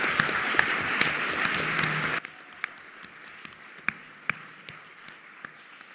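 Applause from a seated audience at a Model UN opening ceremony, a dense patter of clapping for about two seconds that then thins to a few scattered, distinct claps.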